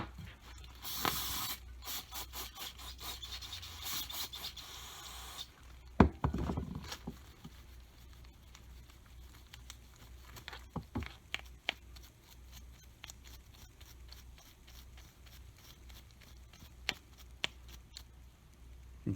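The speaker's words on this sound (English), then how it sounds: "Using a plastic bristled brush. Going to give it a little bit of help, mechanical help," A plastic-bristled brush scrubs a spark plug from a V-twin Kohler Cub Cadet engine soaked in carburetor cleaner, with a burst of spray near the start and then rapid close scratching strokes and light clicks throughout.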